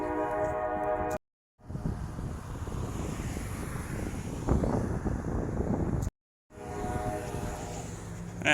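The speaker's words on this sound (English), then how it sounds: "And I might be missing a train coming through." A train passes through a changing urban neighborhood, a loud rumbling roar with a drawn-out horn at the start and end, interrupted by brief gaps.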